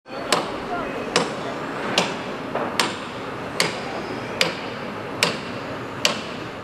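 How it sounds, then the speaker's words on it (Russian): Hammer blows ring out at a kindergarten construction site on Tashkentskaya Street in Samara, eight sharp strikes at a steady, unhurried pace over constant outdoor site noise. "Строительство детского сада на Ташкентской в разгаре."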